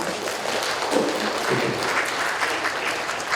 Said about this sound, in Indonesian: Tepuk tangan dong buat Mbak Viana.